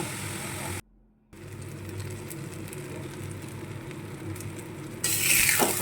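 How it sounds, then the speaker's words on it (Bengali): Soaked Gobindobhog rice is stirred in a pot of frying masoor dal khichuri: a steady, close sizzling hiss with a brief silent gap, then growing louder toward the end. "এবারে চালটা দিয়ে আবারও একটু নেড়ে ফেলে ঢেকে কষে নেব"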